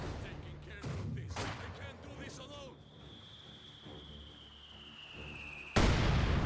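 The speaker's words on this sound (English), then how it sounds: "Good barrage there." Artillery barrage in the game Company of Heroes 2, a string of booming impacts and bursts early on, then a long whistling tone and a sudden loud blast at the end, with a commentator talking over it.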